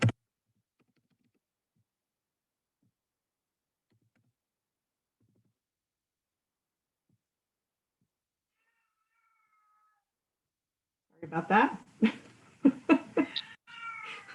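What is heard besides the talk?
cat meowing in the background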